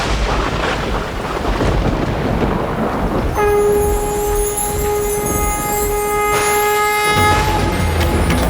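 Heavy rain pours steadily through a drought-relieving storm with a low thunder rumble, while a sustained horn-like tone swells over the downpour in the middle before fading, leaving the rain hiss.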